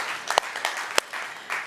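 A church congregation applauds during a Sunday Father's Day service in the sanctuary, with bursts of scattered clapping that swell and fade in several waves, moderately distant and reverberant, with no talking over it.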